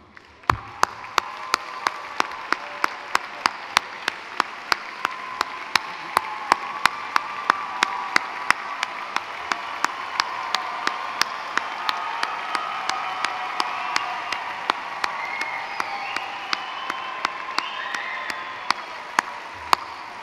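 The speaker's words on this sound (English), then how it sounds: "Please stand up for a round of applause." At a business school commencement ceremony, the audience stands and applauds the graduates' families, a long, sustained wash of crowd clapping with loud, regular claps from someone close by punctuating it throughout.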